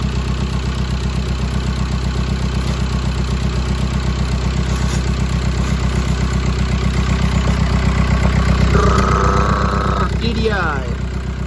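A VW PD TDI diesel engine with a working turbo runs loudly and steadily, a close, throbbing drone with a rising whine near the end, while people talk.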